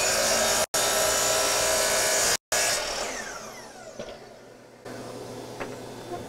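A Bosch GCM12SD glide miter saw with an old blade cuts through wood, running as a loud, steady whine that breaks off twice. The motor then winds down, and a few faint clatters follow.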